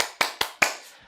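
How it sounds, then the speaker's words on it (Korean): Three sharp hand claps, evenly spaced about a fifth of a second apart, close and crisp, from a teacher at a live online class on classroom management, with no voices. "박수!"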